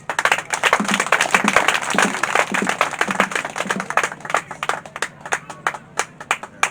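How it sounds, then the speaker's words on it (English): Men in the audience at a rural women's rights event clap together, with sharp, distinct handclaps. They start in a dense burst, then thin into a sparser, more rhythmic pattern of individual claps. "Let the men clap for us"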